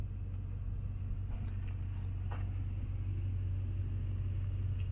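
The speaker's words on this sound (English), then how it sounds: "I don't turn my car off." A Lexus LX470 engine left running at idle while parked at a remote campsite, heard as a steady low rumble that holds level throughout with no revving.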